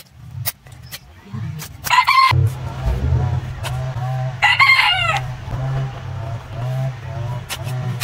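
A pet backyard chicken crows loudly and close by, twice with a pause between, over a steady low rumble and some faint background noise.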